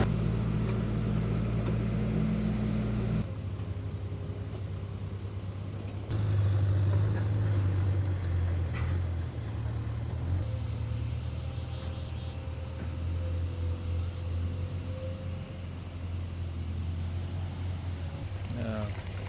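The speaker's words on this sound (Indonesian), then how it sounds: "ini ada mobil lagi yang akan lintas di jalannya" A car moves along a road in Bayang Alpa after rain, its engine a steady low rumble with a shift partway through, heard at moderate distance while someone talks over it.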